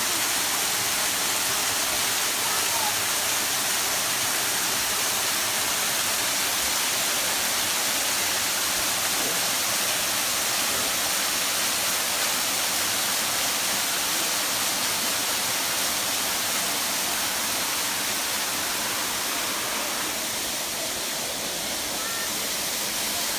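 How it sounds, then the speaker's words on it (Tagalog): Tara Falls, a waterfall in Bolinao, Pangasinan, gives a steady, broad roar of falling water that holds even and continuous throughout, with no clear speech over it. "Welcome to the falls."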